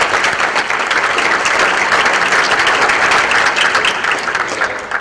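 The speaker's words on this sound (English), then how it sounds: "please join me in giving her a round of applause" Sustained applause from an audience at an arts lecture event, dense and steady from start to finish with no voices over it.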